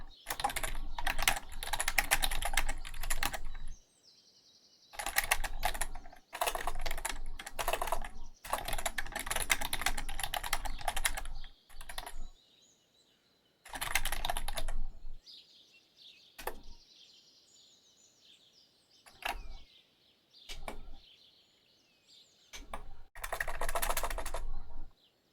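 Bursts of rapid, close keyboard typing in several runs of a few seconds each, with pauses between them and brief isolated key clicks, over a faint background tone and no talking.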